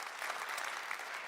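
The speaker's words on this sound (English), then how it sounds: "Yeah, you can applaud for that." A church congregation applauds steadily for the whole stretch, a dense wash of clapping at a moderate distance with no voices standing out.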